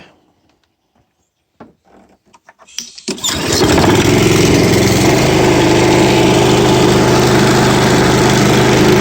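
A Honda small engine starts on choke after a few quiet mechanical clicks, catching abruptly and then running loud and steady, close by, with no talk over it.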